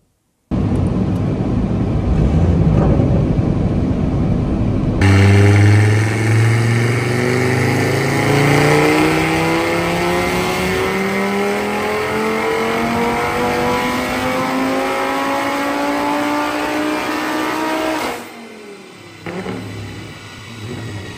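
An Audi 2.5 TFSI turbo engine fitted with a TC900XT turbo kit revs loudly on a dyno, its tone climbing steadily through the rpm range over many seconds before dropping off near the end.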